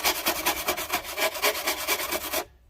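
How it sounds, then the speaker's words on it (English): A rasp files foam on a wild boar head mount, producing rhythmic, close, rough scraping strokes about five per second, then stopping abruptly. "I got a rasp for taking off lots of foam."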